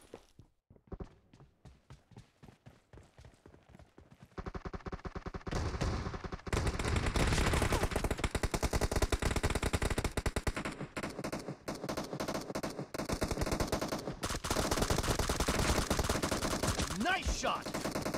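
Gunfire in the battle royale video game PUBG: sparse single shots and footsteps at first, then sustained, dense automatic fire and loud bursts of shooting for most of the stretch.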